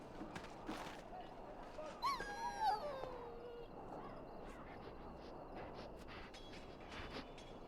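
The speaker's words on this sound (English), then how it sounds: "Now I can treat the dog properly, poor fella." A dog in the video game Dragon Age Origins gives a brief high whimpering whine near the middle, faint against a soft ambient game backdrop.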